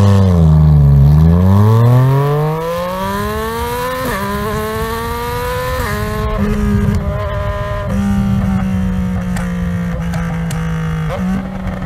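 Yamaha Tracer 900 GT motorcycle on its stock exhaust, engine revved hard from a low idle into repeated loud, rising and falling blips, close up and continuous with no talking.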